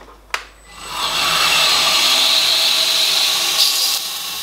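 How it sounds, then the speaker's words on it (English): A 2x72 belt grinder chamfering knife edges: a sharp click, then the belt spins up into a loud, steady high whine of grinding, close up, before easing off near the end. "take this down all around the edges, nice and evenly to the line on the grinder"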